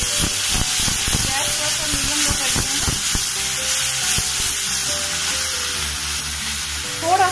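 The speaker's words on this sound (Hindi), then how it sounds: "अब हम टमाटर प्यूरी डाल देते हैं।" Tomato puree sizzling and frying in a hot pan over a gas flame turned to medium-low, a loud steady hiss with occasional stirring knocks; a voice talks briefly over it.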